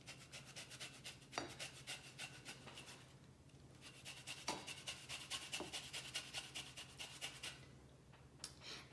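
Orange zest grated by hand into a bowl for gourmet pancakes, a quiet, steady rasping rub in quick repeated strokes with brief pauses.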